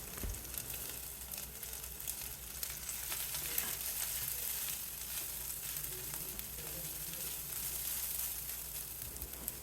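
Onion, garlic and grated coconut sizzle steadily in a hot pan while cooking down for a tomato chutney, a continuous close frying hiss with faint crackles and no voices.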